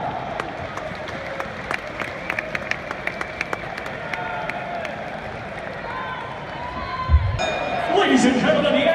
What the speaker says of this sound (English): a round of applause for the gallant Brenislaw Binienda